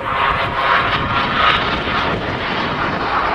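Frecce Tricolore aerobatic team jets flying overhead in formation during a display: a loud, broad, continuous jet roar that swells and eases slightly over a few seconds, with no talk.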